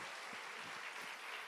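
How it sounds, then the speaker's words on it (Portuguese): Audience at a hypnosis stage show gives steady, dense applause, a continuous wash of many hands clapping at moderate distance with no talk over it. "Uma salva de palmas pro Bruno."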